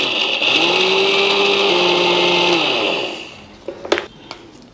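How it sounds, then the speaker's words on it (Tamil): An electric mixer grinder whirs loudly for about three seconds, grinding roasted gram with cardamom powder for ladoo. The motor then winds down and a few sharp clicks and clatters follow. "சேர்த்து இது 3ஐயும் அரைச்சிக்கலாங்க."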